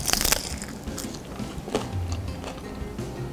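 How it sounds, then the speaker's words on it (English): Crunchy bites into a fried ground beef taquito dipped in guacamole, a few crisp crackling crunches up close, loudest at the start and trailing off into quieter chewing. "I don't know if you can hear the crunching"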